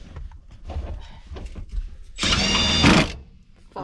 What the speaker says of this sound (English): now I'm going to take a 14mm to undo the seatbelt rails here